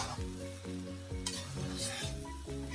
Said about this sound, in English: Stir all of that rice so you get that brown color